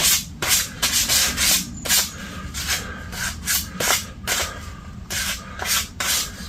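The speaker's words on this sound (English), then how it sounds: "Sandpaper." Sandpaper scuffs by hand across a VW T4 panel in quick, rhythmic back-and-forth strokes, loud and close, roughly two rasping passes per second with no talk.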